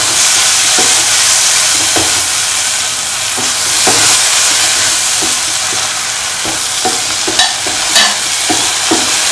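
A spoon stirs potato pickle in a bowl just after apple cider vinegar goes in, giving a steady close wet shuffle with scattered light clicks against the dish and no talking.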